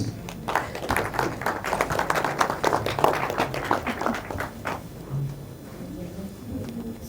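Summit audience applauding after a keynote on fertiliser and soil health in Africa, loud dense clapping that thins and fades over several seconds as a voice briefly comes through near the end.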